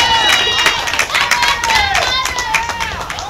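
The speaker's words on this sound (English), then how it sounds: "So clap it up for me." A crowd at an outdoor peace walk festival claps in quick, scattered bursts, mixed with voices and cheers close by.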